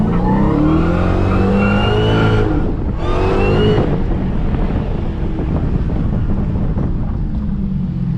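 A tuned Dodge SRT Hellcat Charger roars hard under acceleration, its engine note climbing through the revs, then cuts briefly and surges again into loud, rough engine and wind noise during a drift, heard up close from inside.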